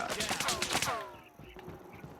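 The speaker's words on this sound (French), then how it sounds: "Ok, ça tire là-bas, on y va direct." Rapid automatic gunfire in the mobile shooter game Call of Duty Mobile, a quick burst of close shots that stops abruptly, followed by quieter game ambience.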